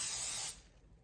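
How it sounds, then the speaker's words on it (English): Cooking spray hisses from a can into a mixing bowl in a home kitchen, one short soft burst that cuts off after about half a second, close and quiet. "Now what I do is cooking spray in the bowl,"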